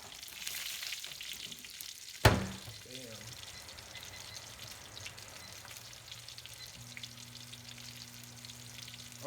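Gravy and butter sizzle and bubble in a hot pan while being stirred together, a close, steady frying crackle broken by one sharp clattering knock early on, with a low hum entering toward the end.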